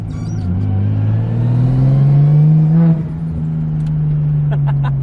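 A Nissan R33 Skyline accelerating from inside the cabin, engine note climbing steadily in pitch as revs rise, then dropping off with a gear change and settling into a steady drone.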